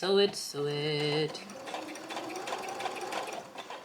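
A sewing machine stitches a rose flower scrunchie, first a couple of short mechanical whirring bursts with tonal motor whine, then a steady rapid chatter of the needle running close and clear.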